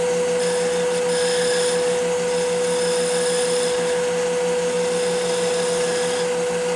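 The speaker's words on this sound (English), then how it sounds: "Go in, use my double-sided negative rake scraper here" A double-sided negative rake scraper shaping the point of a wooden crochet hook on a spinning wood lathe, giving a steady, loud whirring hum with a constant tone and a continuous scraping hiss throughout.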